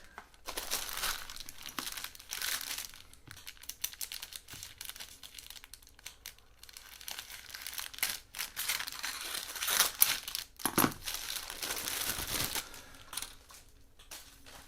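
A plastic bag holding B-17 model kit parts crinkles and rustles near and fairly quietly in irregular bursts, with louder crunching handling near the end.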